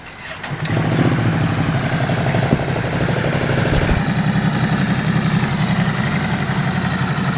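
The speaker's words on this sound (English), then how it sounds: "So Paul's going to take this out for a ride" A Ducati SuperSport 950S motorcycle engine starts up and settles into a steady, close idle that runs on evenly with no talking.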